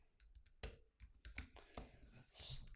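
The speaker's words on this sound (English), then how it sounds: "That's why I was typing in all capitals." Keystrokes on a computer keyboard, typed with caps lock on: scattered, uneven taps and clicks, some sharp and close, with brief pauses between bursts and a louder flurry near the end.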